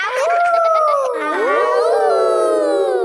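Voices in a Peppa Pig cartoon imitate a wolf howl, long sliding rising-and-falling howls, loud and close, overlapping and continuing throughout.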